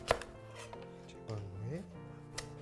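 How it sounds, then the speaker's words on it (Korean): A metal spoon scraping and digging seeds out of a halved kabocha squash, giving faint rasping scrapes and soft knocks against the hard rind, close up in a quiet kitchen. "단호박의 속을 숟가락으로 씨앗을 파주겠습니다."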